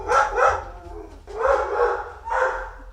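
Dogs indoors barking in quick bursts, two sharp barks, then a longer run of barking and a final bark, loud and close.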